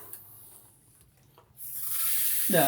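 Pump sprayer misting water onto soil sown with pepper seeds, a steady broadband hiss rising after a quiet start and continuing close and loud to the end.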